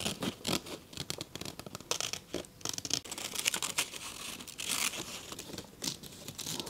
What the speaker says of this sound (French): Je vais inciser et couper.